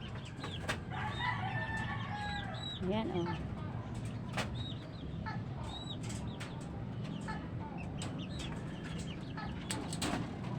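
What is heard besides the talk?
chickens clucking and rooster crowing on rooftop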